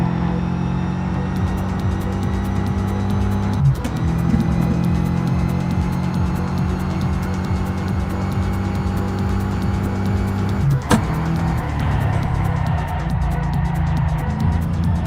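Bugatti Veyron SS in the racing game Test Drive Unlimited Solar Crown, making a steady, loud, droning engine hum with sustained tones, interrupted by two brief gear-shift dips.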